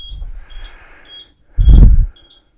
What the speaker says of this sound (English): Ah, got 5 beep codes.